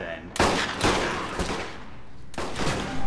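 Gunfire in the video game Alpha Protocol cracks out in sharp bursts: a loud volley, several more shots, then another burst, close and forceful against a background of game ambience.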